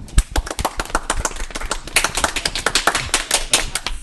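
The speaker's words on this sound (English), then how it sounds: "Round of applause for everybody." A crowd claps in a steady burst of applause, many hands overlapping into a dense, sustained patter with no voices.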